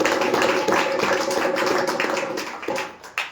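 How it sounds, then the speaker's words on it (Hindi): A church meeting audience claps loudly in a dense, continuous wash of many hands that carries on steadily before thinning out near the end. "हम इससे भी ज्यादा जोर से ताली बजाएंगे"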